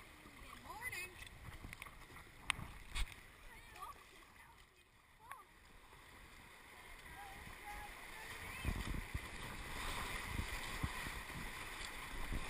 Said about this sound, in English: Keep paddling.